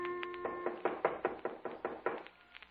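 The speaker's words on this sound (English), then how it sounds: "there was a knock on the door" A run of about ten sharp raps on a door, fairly loud and close, in an even rhythm that slows slightly toward the end.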